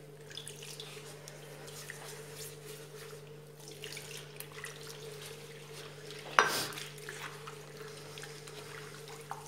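Warm tap water runs into a bowl of dough for sponge fritters, a soft steady trickle under faint kitchen hum, with one brief louder splash near the end.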